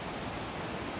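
Seti river rushing below a bridge, a steady broadband roar of fast water that stays constant and fairly faint over the brief moment.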